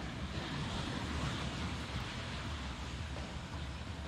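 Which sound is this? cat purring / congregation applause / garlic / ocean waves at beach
ocean waves at beach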